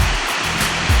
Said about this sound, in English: the river, as it goes downstream